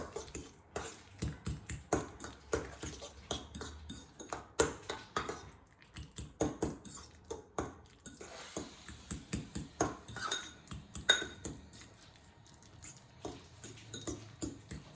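A spoon stirs labneh cheese into mashed avocado in a bowl, making soft, irregular clicks and scrapes at a quiet, close level.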